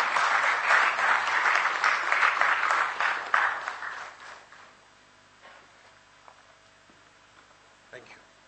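An audience applauds a special address speaker at a formal event on the Gandhian way, with a strong burst of clapping for about four seconds that then tapers into scattered claps and quiet room noise.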